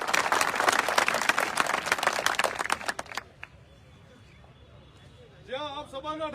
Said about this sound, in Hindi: यहाँ वास्ते आप सब तालियां बजा रहे एक बार।